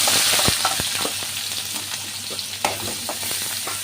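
Onion fries in a hot pan with mustard seeds for egg rice. A loud, even sizzle runs throughout, with sharp pops and stirring knocks scattered across it.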